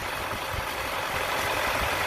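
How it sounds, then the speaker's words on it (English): Steady engine-bay hum of a repaired AC compressor running on a Toyota Tundra 5.7, a continuous broadband whir with low rumble, close and even throughout with no talk. "the compressor is running properly"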